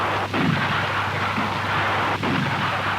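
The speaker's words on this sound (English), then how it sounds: "the flashing scorer is used in combination with the gunfire simulator" A gunfire simulator demonstrated in a 1960s Saab military training film for night firing, heard as two sharp booming reports about two seconds apart over a constant low hum and dense broadband noise.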